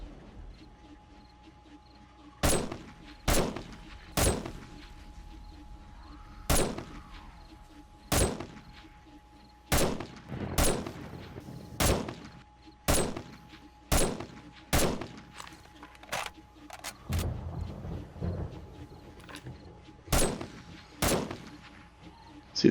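Gunfire rings out while shooting a zombie horde in 7 Days to Die Alpha 20, a long run of sharp, evenly spaced single shots with the occasional quick double shot, loud and close.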